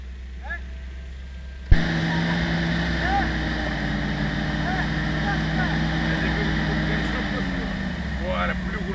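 A Land Rover engine near Lake Plastiras roars in abruptly and holds a steady, loud revving drone while a wheel spins stuck in mud, with voices faintly in the background.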